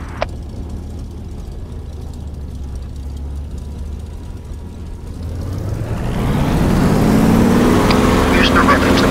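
A Spitfire's piston engine in the DCS flight simulator hums quietly at first, then swells into a loud, steady roaring drone as the plane powers down the runway for takeoff.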